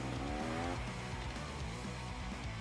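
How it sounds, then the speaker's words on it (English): A dirt bike's rear wheel slides and skids under braking in first gear, a continuous loud engine drone with a gritty, wavering scrape over it, close and steady with no talk. "Just getting that back wheel sliding."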